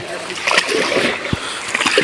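Water splashes and sloshes as a water buffalo is bathed, with bursts of splashing against a background of running water and voices nearby.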